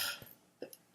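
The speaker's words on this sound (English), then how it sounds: "and now I'm going to cough." A single sharp, close cough from a person suffering allergy-season irritation, bursting out loudly at the very end after near silence and a few faint rustles.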